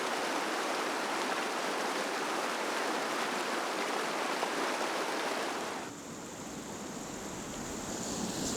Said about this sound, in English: This pool had a lovely set of rapids dumping in.